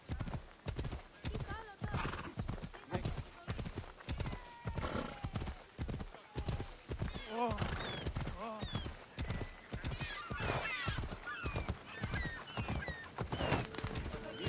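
In Assassin's Creed Odyssey, a horse's hooves clip-clop in a steady rhythm with several whinnies, while a player talks over the game sounds.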